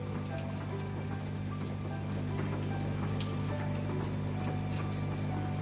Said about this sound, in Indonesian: Wow, hujan.